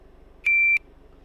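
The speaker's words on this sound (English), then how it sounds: "Wait for the beep." A shooting timer at a home-built shooting simulator sounds its start signal, a single sharp electronic beep lasting about a third of a second, loud and clear over a quiet room.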